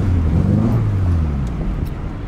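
A Volkswagen Voyage with a carburetor, cold and stumbling, revs up from a rough idle. The low engine drone climbs in pitch and then settles, loud and close, with no talk over it.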